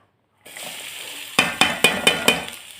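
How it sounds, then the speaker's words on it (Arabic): Onions go into a pan of ghee and oil for stuffed-vegetable sauce, setting off a sudden steady sizzle, then five sharp, evenly spaced scrapes and knocks of a spoon stirring through the frying, close and alone. "معلقة طبعا محترمة من السمنة على معلقتين من الزيت، وهنزل بالبصل بتاعي بتاع صلصة المحشي"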